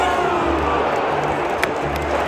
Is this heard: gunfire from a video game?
no